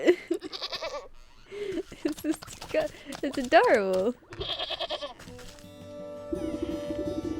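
Near, wavering goat bleats sound in a cartoon house scene, mixed with a voice speaking, before a sustained musical tone takes over at the end.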